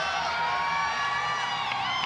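A crowd at a weightlifting world championship cheers steadily for a women's 90 kg lifter, a sustained roar of voices and whoops throughout, fairly loud and even, with no single voice standing out.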